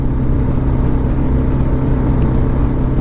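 A Kawasaki KLR motorcycle engine holding a steady 4000 RPM at highway speed, a loud, continuous low drone with wind rush layered over it, unbroken and even throughout.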